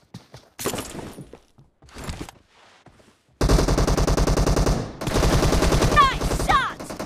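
A shooter video game in team deathmatch mode: rapid automatic gunfire bursts, loud and near, start sharply midway and continue in two long volleys, after sparse quieter game sounds and footsteps, with a brief voice callout.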